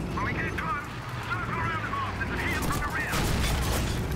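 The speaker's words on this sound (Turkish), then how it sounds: "Lan sen neyine güvenip tank ateş ediyor" Tank cannon blasts and gunfire crackle through a World War II battle in Call of Duty 2, a steady din of shots and rumbling under voices talking throughout.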